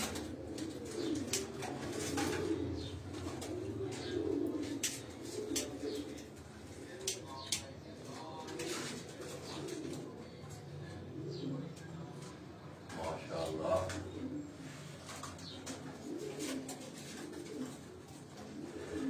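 Racing pigeons coo steadily from rooftop cages, a soft low murmur running throughout, with someone talking over them.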